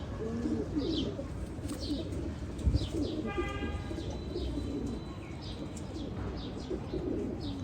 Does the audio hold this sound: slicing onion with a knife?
no